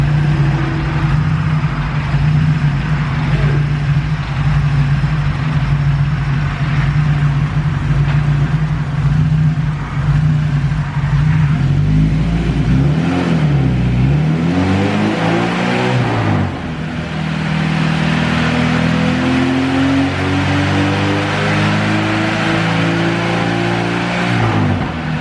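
Boosted B20 VTEC engine in a Honda Civic on a dyno, first holding a loud steady drone, then revving hard with rising harmonics sweeping upward through the pull, no voices.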